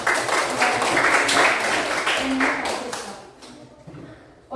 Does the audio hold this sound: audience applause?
yes